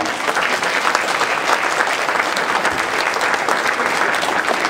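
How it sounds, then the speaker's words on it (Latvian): A concert audience applauds loudly and steadily as a youth folk dance group takes the stage, the dense clapping filling the hall without a break. "ar aplausiem sagaidām mūsu jauniešus deju kolektīvu Zālīte"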